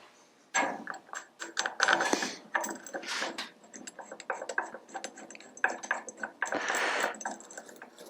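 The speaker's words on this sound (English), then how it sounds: "And let's bolt this one up." A hand ratchet bolting up an old Ironhead oil pump body, with quick, irregular clicking bursts and metallic tapping heard close and moderately loud over about eight seconds.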